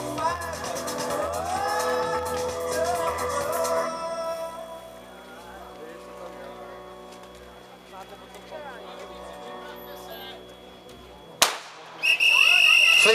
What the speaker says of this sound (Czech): Slyšeli jste startovní výstřel